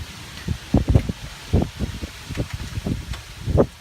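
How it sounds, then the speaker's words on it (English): Sudden wind gusts outdoors beside a 1989 Ford Ranger 2.9 L engine teardown, buffeting the microphone in low, uneven rumbling bursts with rustling, close and fairly loud. "all of a sudden there's wind"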